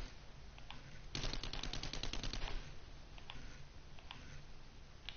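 Rapid SMG burst from the video game 7 Days to Die, a loud sustained volley of about a second and a half followed by a few faint clicks over steady background noise.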